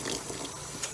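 Water runs steadily from a low-pressure tap while a reborn baby doll's human hair is washed, a constant close hiss with no talk.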